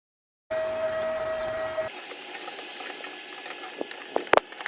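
A vacuum cleaner switches on with a steady whining hum and hiss, the pitch shifting partway, with a few small clicks near the end.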